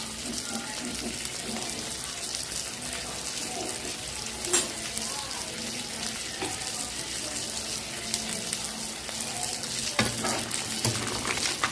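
Fish frying in a pan, a steady bright sizzle and crackle throughout with a few small clinks, fairly close and unbroken.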